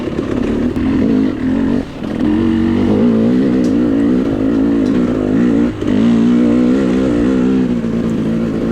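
A KTM 300 two-stroke dirt bike races through a tight section of a hare scramble, its engine loud and close throughout with continuous buzzing, rising and falling revs as the throttle opens and closes.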